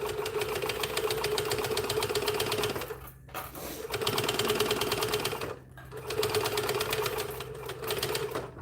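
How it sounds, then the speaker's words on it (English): A sewing machine top stitching a folded fabric flap on a scrap-built bag runs in steady, fast mechanical bursts, close and loud, pausing briefly twice between runs. "we fold this up, top stitch it down."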